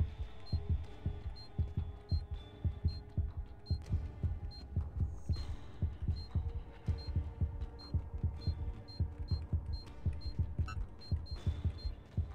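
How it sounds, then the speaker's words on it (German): Heartbeat from the video game Fahrenheit Remastered: steady, deep double thumps in a regular rhythm, fairly faint, with a low hum underneath and no talking. "Gib dir mal den Herzschlag noch am Schluss."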